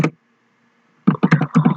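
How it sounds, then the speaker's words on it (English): Keys on a computer keyboard are tapped in a quick, uneven burst of close clicks during the final second, after a near-silent stretch, while a WordPress service name is entered. "so I type here"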